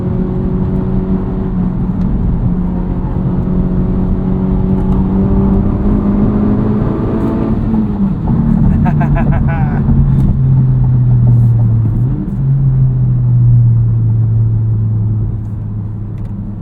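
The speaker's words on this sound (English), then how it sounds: "We'll balance out some of that exhaust noise with induction, maybe some turbo sounds." A 2023 Honda Civic Type R with an MRT Street Race muffler-delete axle-back exhaust revs up and holds a loud, raspy drone, rising in pitch, then dipping and climbing again before easing off, close and dominant throughout.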